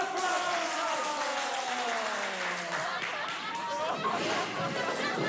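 Students break into applause in a classroom, a dense wash of clapping mixed with crowd chatter and overlapping voices throughout.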